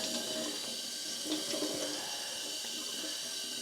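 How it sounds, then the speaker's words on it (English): Water runs into a sink as hand-dyed socks are rinsed, a steady close splashing rush with no speech. "I'm experimenting with rinsing them out in cold water and then just pouring some hot water"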